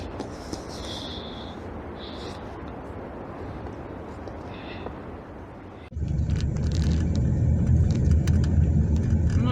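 A car drives along a road heading home from a winter Baltic beach in Poland, with a steady engine and tyre rumble that becomes noticeably louder and rougher about two thirds of the way through.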